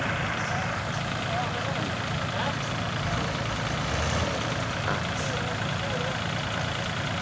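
A dump truck stuck on wet ground idles with a steady, low, continuous engine rumble throughout while people talk over it.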